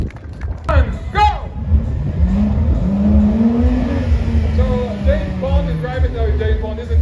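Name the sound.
Aston Martin race car accelerating on track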